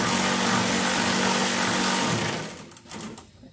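A power tool spins off a nut on the suspension of a 1964 Plymouth Fury, giving a loud, steady whirring buzz for about two seconds before cutting out, followed by faint metallic clatter.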